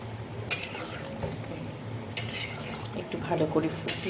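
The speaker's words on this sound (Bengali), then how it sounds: "ছানার বলগুলো দিয়ে ঝোলটা ফুটে গেছে" Gravy with chhena balls bubbles in a pot, with a soft, constant simmer and a few sharp clinks of a utensil against the metal rim.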